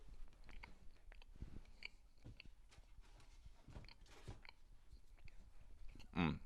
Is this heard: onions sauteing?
no